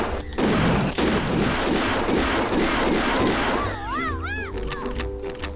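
Loud, rapid bursts of gunfire in a SpongeBob mod of Doom II rattle on without pause, then give way to a few rising, warbling electronic chirps.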